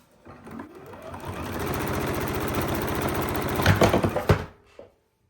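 A sewing machine runs steadily with a dense mechanical whir, speeding into a rapid stitching rattle near the end before stopping abruptly.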